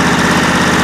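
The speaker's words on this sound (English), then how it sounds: "11-year-old battery still hanging in there, and the engine just cranked right over." John Deere SST18 lawn tractor engine running after a cold start, a loud, close, steady idle with an even low rumble and slight knocking pulse, no voices.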